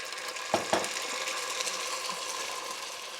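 Passata tomato sauce poured a little at a time into hot oil in a pan while making cannelloni, giving a steady hissing sizzle throughout with a couple of sharp splatter pops near the start.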